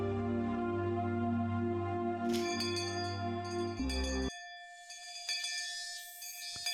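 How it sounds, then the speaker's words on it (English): A school bell rings in the Higurashi When They Cry Hou visual novel, a sustained bright tone over background music that cuts off, then gives way to lighter chiming. "Finally, we heard the principal's bell ringing."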